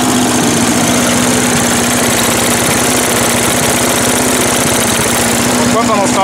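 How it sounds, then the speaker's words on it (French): A small engine idles steadily and loudly after a carburetor idle adjustment, a constant rumbling hum with an even low pulse, with faint voices near the end. "On va essayer de lui mettre un petit ralenti joli."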